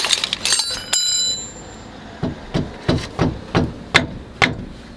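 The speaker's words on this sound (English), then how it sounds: "I'm going to leave that on there so I can bosh it with a hammer." A hammer strikes metal on a Reliant Scimitar project car, opening with a few ringing clinks and then about eight sharp, evenly spaced blows, close and loud, with no talk.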